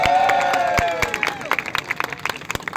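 A crowd at an outdoor ribbon-cutting ceremony applauds the borough parks commissioner, with a burst of clapping and cheering that fades into scattered claps, close and fairly loud.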